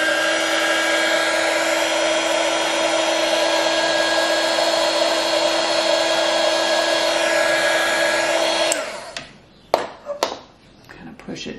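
A heat tool blows steadily over a desk surface during a chalk-paint makeover, a loud even whirring hiss with a whining tone for about nine seconds, then cutting off into a few bumps and taps.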